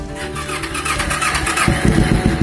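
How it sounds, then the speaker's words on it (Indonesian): A Kawasaki Ninja 250 cafe racer custom with an aftermarket exhaust runs loud and close, a steady throbbing idle that grows heavier and more pulsing toward the end, with no voices. "Untuk exhaust alias knalpotnya gua pasangin model aftermarket man."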